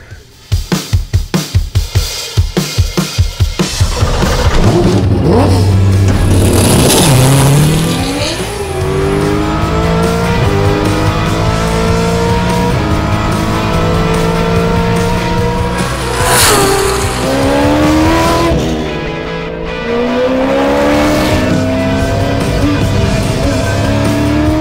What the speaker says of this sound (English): It's a great race car.